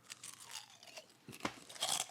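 Dried potato chips crunch up close in a quiet room, a run of brittle, crackly bites and chewing with no talk.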